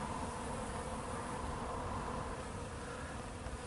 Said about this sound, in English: on the East Colony hive, we've got bees, we have bees